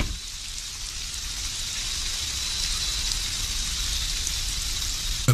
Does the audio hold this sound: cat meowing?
no